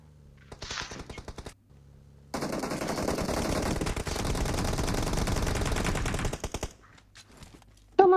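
Sustained automatic gunfire in PUBG Mobile, a long rapid burst lasting several seconds after a short opening volley, loud and close with no talk over it.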